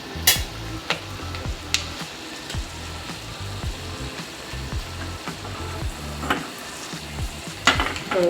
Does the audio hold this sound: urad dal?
yes